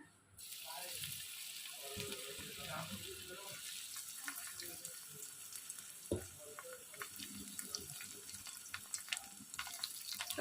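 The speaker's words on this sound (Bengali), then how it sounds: "তেলটা এখন গরম হয়ে গেছে এখন আমি এতে উচ্ছেগুলো দেবো" Bitter gourd pieces go into hot mustard oil and fry, giving a steady, faint hissing sizzle with occasional pops and clinks throughout.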